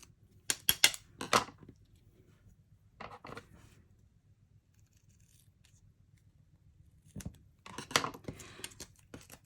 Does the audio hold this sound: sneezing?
no